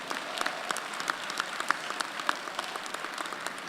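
Audience at a university honors convocation breaks into steady applause, dense clapping with a few sharper individual claps standing out, moderately distant and sustained throughout without speech.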